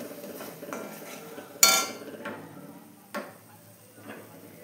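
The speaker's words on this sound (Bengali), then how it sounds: "আমি অল্প জল দিয়ে বারে বারে মশলাটা ভালোভাবে কষিয়ে নেব।" Masala being stirred and fried in a kadai with a little water, heard as sparse spoon scrapes and one sharp metallic clink against the pan, with a soft, low hiss of cooking underneath.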